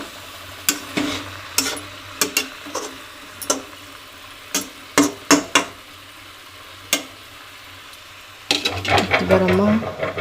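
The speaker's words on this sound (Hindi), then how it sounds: "मैं टमाटर हल्दी मिर्ची धनिया पाउडर नमक सब डाल दिए हैं" Tomato with turmeric, chilli, coriander powder and salt fries in a pan as a spoon stirs it, sharp scraping clinks standing out over a low sizzle, and the frying grows louder and busier toward the end.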